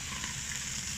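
Fresh fish sizzles on a Supremo grill as the fillets are flipped, a steady, dense frying hiss that stays close and even throughout with no talk over it.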